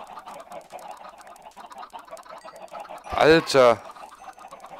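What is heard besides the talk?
chickens clucking in Minecraft video game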